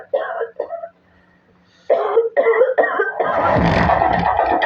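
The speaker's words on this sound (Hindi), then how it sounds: "तुम गला साफ़ करो, जल्दी करो, चलो" Someone clears their throat and coughs a few times in short bursts close up, while another voice talks nearby and a rougher, louder throat sound closes the clip.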